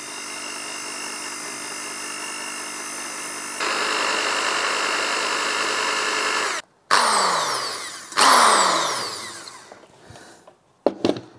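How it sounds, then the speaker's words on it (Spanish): Power drill on a Kawasaki ZZR 1100 motorcycle restoration, its bit boring out a stuck screw: a steady high whine that rises in pitch partway, then breaks into short bursts with pauses as it bites and stops, no talk. "dejamos actuar la broca para sacar el tornillo"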